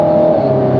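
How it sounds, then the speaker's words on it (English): An Alpine A110 Légende GT sports car's exhaust drones steadily in third gear under acceleration, a close, loud, continuous engine tone with no speech, lasting under a second. "So let's see if we can still hear the exhaust."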